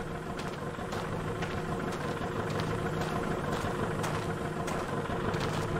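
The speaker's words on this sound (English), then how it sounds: "Oh, I hear the car." A car engine idles steadily in a horror video game, a continuous low rumble filling the whole stretch at an even, moderate level with faint ambient noise above it and no talking.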